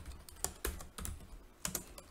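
Quiet, close keystrokes as an SQL query is typed on a computer keyboard, coming as a few separate clicks and short clusters with gaps between them.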